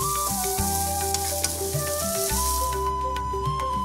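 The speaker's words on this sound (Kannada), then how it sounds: "ಇನ್ನು ಇದಕ್ಕೆ ಗೇರು ಬೀಜವನ್ನು ಹಾಕಿಕೊಳ್ತಾ ಇದ್ದೇನೆ. ನೋಡಿ, ಈಗ ಗೋಲ್ಡನ್ ಕಲರ್ ಆಗಿ ಫ್ರೈ ಆಗಿದೆ." Cashew nuts frying golden in a pan for a ghee rice kurma, a continuous bright sizzle close up with light clinks, the hiss cutting off near the end.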